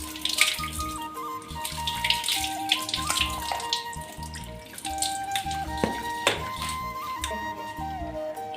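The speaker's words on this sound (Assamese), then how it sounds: "এতিয়া চাউলখিনি ধুনীয়াকৈ ধুই ল'লোঁ" Water sloshes and splashes as rice is rinsed by hand in a pot, with steady running water and irregular swishes alongside a faint tonal background.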